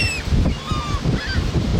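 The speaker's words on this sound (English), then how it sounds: "the call of this bird, just about as stereotypically gull as it gets" A gull calling on a lake beach at Sylvan Lake: a few loud, nasal, honking cries in quick succession, close and clear over faint outdoor background.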